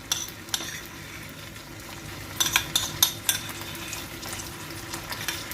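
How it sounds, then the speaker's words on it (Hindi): Garlic ginger paste sizzles steadily in oil in a pan while a spoon clinks and scrapes against the metal several times. "और अब हम इसको थोड़ा सा फ्राई करेंगे"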